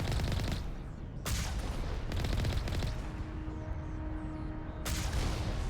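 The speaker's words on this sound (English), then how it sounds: "Some cannons and stuff." Cannons fire in the Mass Effect video game, a dense run of loud booming blasts in rapid bursts with brief lulls between volleys, a steady tone humming underneath.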